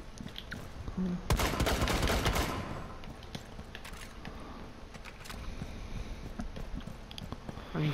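Gunfire in Rainbow Six Siege during a custom match: a loud burst of rapid shots early on, then scattered sharper cracks and impacts at a distance through the rest, with no talking.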